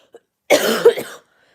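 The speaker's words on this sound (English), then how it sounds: "1 second, I got a cough." A single sharp cough, loud and close, lasting about half a second with a faint short click just before it, then silence.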